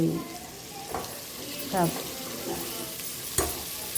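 Curry leaves and mint stirred and fried in a pan for mutton curry, a continuous moderate sizzle with several spoon scrapes and a sharp knock near the end, with faint voice traces in the background.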